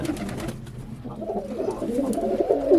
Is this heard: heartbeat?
no